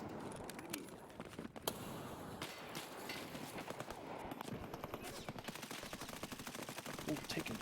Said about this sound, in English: Ooh, taking a bunch of shots.